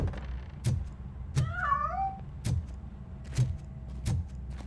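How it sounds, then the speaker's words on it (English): A cat in the video game Robocop Rogue City meows in a few short rising and falling calls, loud and close, while regular soft thumps and clicks repeat in the game's background ambience. "That cat must be hiding inside."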